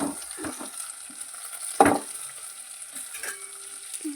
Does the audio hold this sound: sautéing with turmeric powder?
yes